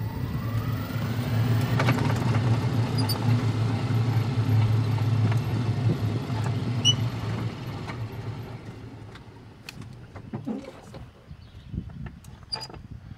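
A GEM E825 electric car from a scrap yard, hot-wired with no working brakes, drives forward with a steady low motor hum and mechanical whine, creaks and rattles, fading and growing quieter toward the end.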